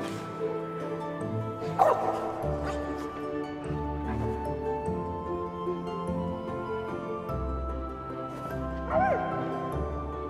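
A dog in the video game Trine 4 barks and whimpers with a few yips, set against a steady game music backdrop, the calls fairly soft and scattered across the stretch.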